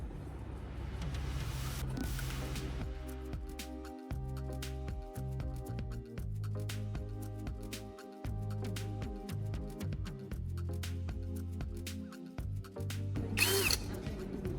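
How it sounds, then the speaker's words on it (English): Power drill boring holes through wooden blocks, a close whirring motor that stops and restarts in several bursts, with short gaps and a brief higher-pitched screech near the end. "Using my drill, I carefully bored holes through the marked points on both wooden pieces."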